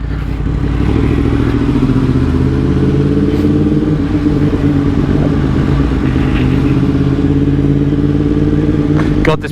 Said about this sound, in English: this bike's loud